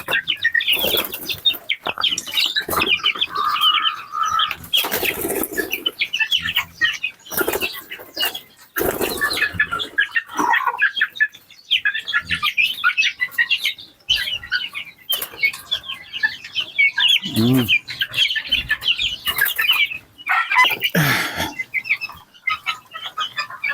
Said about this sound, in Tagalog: ito naman yun ang 4 weeks old natin ng mga sisiw mga boys